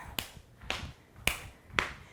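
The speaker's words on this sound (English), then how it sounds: "as you breathe out, your feet come together and you clap your outer thighs" Hands clapping against the outer thighs in a yoga exercise, four crisp evenly spaced slaps about half a second apart, close and clear.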